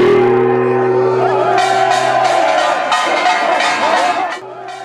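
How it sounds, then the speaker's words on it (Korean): On Namdo Bridge over the Seomjin River, about 400 Yeongnam and Honam residents shout together at a rainy spring plum-blossom festival opening. A voice speaks first, then a loud, ragged crowd roar rises in bursts and tails off near the end. "섬진강 남도대교에 400여 영호남 주민들의 함성이 울려 퍼집니다"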